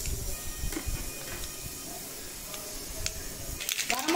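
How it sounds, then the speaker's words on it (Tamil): Mustard seeds sputter and crackle in hot oil in a home kitchen while dal curry is being made, with faint scattered pops and hiss that grow louder and denser toward the end. "நம்ம ஒரு ஸ்பூன் அளவுக்கு கடுகு போட்டுக்கிடுவோம்."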